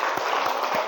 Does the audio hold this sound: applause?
yes